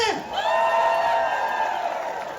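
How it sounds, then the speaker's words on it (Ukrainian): A crowd at a charity memorial concert in Toronto cheers and whoops with sustained voices, loud and close, blending into a steady roar of audience noise. "Ще раз ваші оплески!"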